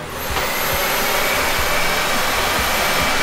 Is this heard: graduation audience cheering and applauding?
no